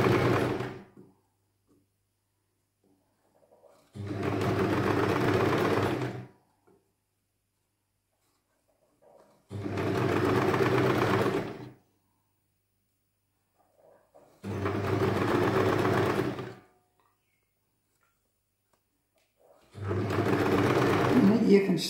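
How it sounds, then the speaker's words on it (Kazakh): Sewing machine stitches fabric starting from the hem, running in five steady bursts of a few seconds each separated by quiet pauses, close up and moderately loud. "Енді осы жерден тігеміз біз бұны."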